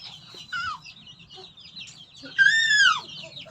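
A chicken clucks and squawks in short bursts close by, rising to a louder, drawn-out call near the end, over a faint low background hum.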